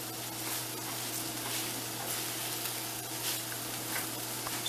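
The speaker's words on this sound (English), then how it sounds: "we're just gonna kind of stir fry this" Beer brats stir-frying in a pan, a steady close sizzle and crackle with faint scraping, continuous and even throughout with no talking.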